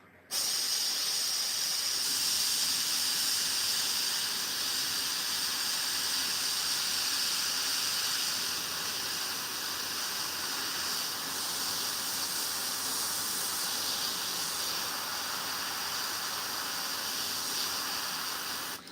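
Airbrush spraying paint onto a Warhammer miniature, a steady close hiss of air and paint mist running continuously with only slight shifts in intensity, with no talk.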